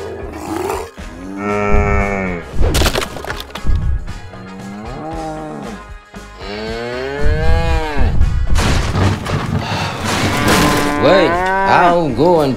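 A large cow moos repeatedly in long, loud, drawn-out bellows with short pauses between calls, close by and dominating the scene alongside a few crashing noises.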